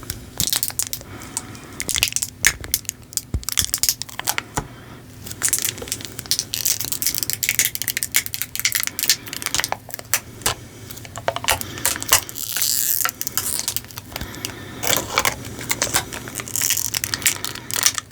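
Plastic packaging of a slime product is torn open and handled, giving dense, continuous crinkling and crackling close to the microphone, with sharp irregular crunches throughout and no talking.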